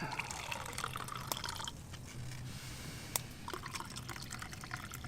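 Water pours into a cup at an outdoor woods campsite, giving a continuous splashing, trickling flow with small drips and a brief sharper splash, surrounded by outdoor background noise.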